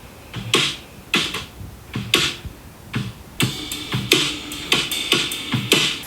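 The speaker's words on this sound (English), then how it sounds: "I'm using a Logic drummer track because I couldn't really be bothered to do it myself" Brush-setting drum pattern from a Logic drummer track in a pop song, soft swishy hits in a steady groove, sparse at first then busier, played alone and close.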